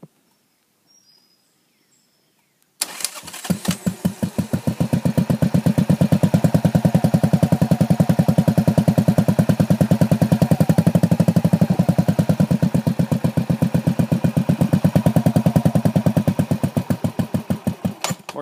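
A motorcycle engine catches after a brief quiet start, then runs steadily with a fast, loud idle rhythm that swells and eases slightly over about fifteen seconds.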